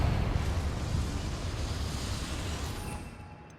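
Bombarda and Confringo explosion spells in Hogwarts Legacy, a loud blast trailing off into a long rumbling roar that slowly fades over a few seconds.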